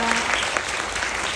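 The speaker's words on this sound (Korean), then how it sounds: "여러분 다시 한번 큰 박수 보내주시고" Audience applause rises at a Korean talk concert, a short burst of dense, sustained clapping from the crowd filling the room.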